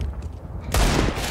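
Desert Eagle pistol fire in Minecraft sounds as a sudden loud burst of gunfire after a quieter moment, a harsh crack that lingers into a dense rolling report.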